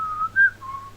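A person whistles a short tune alone, a few clear sustained notes rising and then dropping in pitch, close and fairly loud.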